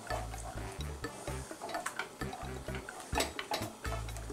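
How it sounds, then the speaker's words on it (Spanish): Tomato fries in a pan over high heat for a bean stew, a busy crackling sizzle broken by repeated scraping stirs with steady low thumps underneath. "Que se fría el tomate bien."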